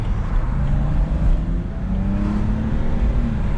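A 2008 BMW 328xi with the Sport Package cruises through town, its steady engine drone and road rumble continuous and close throughout, with a slight rise in engine tone partway along.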